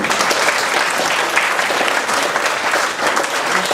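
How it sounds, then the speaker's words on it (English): A room at a Nairn Ceilidh Group charity cheque presentation fills with steady, dense applause from the audience, continuous and fairly loud throughout. "So if we could have a round of applause, please, too, for Liz."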